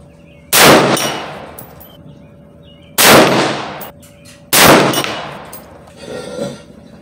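IWI Tavor SAR bullpup rifle fired at a shooting range, three loud, sharp, close shots spaced a couple of seconds apart, each with a ringing decay, and a fainter thump at the end.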